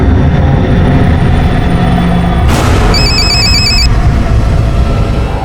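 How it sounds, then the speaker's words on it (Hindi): A telephone rings in a tense crime drama scene, a single electronic ring burst with steady tones lasting about a second, heard over a loud, dense background of music and noise. "दादा आपने फोन क्यों काटा?"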